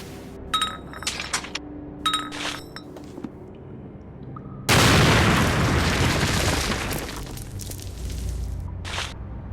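A bomb blows up in the adventure game Sherlock Holmes: The Awakened: a few glassy clinks come first, then a sudden loud boom that rumbles on and slowly fades, with one last short burst near the end.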